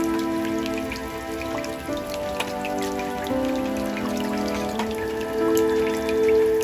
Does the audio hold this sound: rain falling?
yes